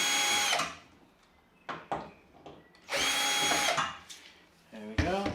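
A power drill backs screws out of a Samsung washing machine panel in several short, loud whirring bursts, separated by quiet pauses and small clicks.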